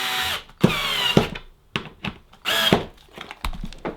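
A power driver runs screws into a plastic storage shed during assembly, giving short bursts of whirring with clicks and thunks in between, close and fairly loud.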